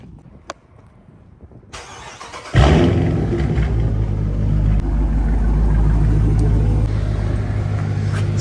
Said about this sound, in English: Go ahead and give you guys a cold start.